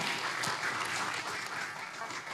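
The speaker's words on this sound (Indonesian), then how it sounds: "Tepuk tangan buat kita biar semangat" An audience at a formal gathering claps for a speaker being introduced, a fairly faint but dense, steady patter of many hands lasting a couple of seconds.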